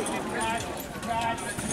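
Horses' hooves clip-clop as a team pulls a carriage through an obstacle at a driving competition, quick uneven beats under a commentator's voice and crowd noise.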